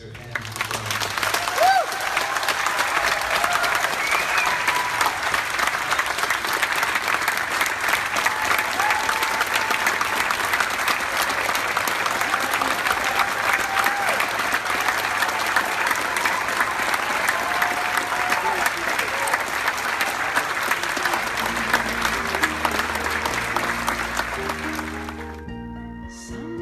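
A live audience applauds steadily for a DJ and composer at a soundtrack debut performance, dense sustained clapping and some crowd noise lasting nearly half a minute before tapering off at the end.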